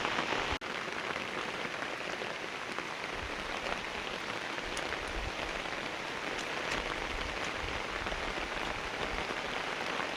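Heavy monsoon rain pours steadily onto surfaces, a dense, loud, continuous hiss with scattered droplet pops and no break throughout.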